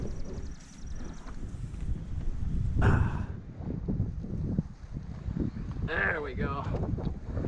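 Strong wind gusts buffet the microphone over a marsh of floating bog, a steady broadband rush throughout with louder bursts, while someone talks briefly and water and tackle sounds come and go.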